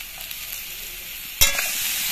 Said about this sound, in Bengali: আমড়া দিয়ে নুন হলুদ দিয়ে একটু নাড়াচাড়া করে নিচ্ছি।